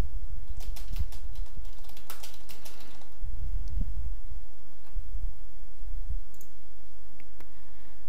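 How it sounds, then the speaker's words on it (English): Fingers type on a computer keyboard at close range, a steady run of light clicks and taps with a few louder keystrokes over a low hum, no voices. "They can then type in a query"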